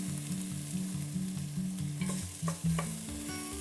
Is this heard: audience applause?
no